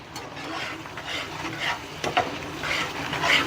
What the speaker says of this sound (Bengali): মিডিয়াম গ্যাসে আমি এইভাবে নাড়তেছি